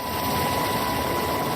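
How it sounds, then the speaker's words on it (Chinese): A Black Hawk helicopter flies over a flood-hit mountain area carrying supplies, its engine and rotor making a steady, loud, unbroken drone that fills the whole moment with no voices. "昨早乌鹰直升机有出动2架"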